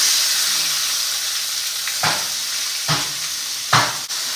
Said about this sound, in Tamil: இதில் சீரகம் போடுறேன். சீரகம் போட்டுட்டு கருவேப்பிலை போடுறேன்.